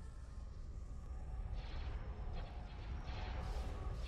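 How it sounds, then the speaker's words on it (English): Laser cannon fire during a Star Wars space fleet battle in a strategy video game, dense booming blasts and bursts layered over a constant rumbling battle din, with no speech. "Charge laser cannons."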